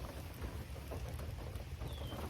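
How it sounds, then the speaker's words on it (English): Rain just beginning to fall around a van, a steady dense patter with low rumbling underneath, continuous and fairly even, with no voices. "It just started raining on us."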